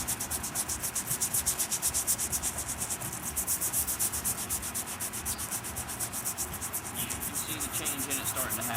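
Corrosion X rust remover scrubbed back and forth on corroded metal, a close, steady rhythmic rubbing and scraping that repeats in even strokes throughout.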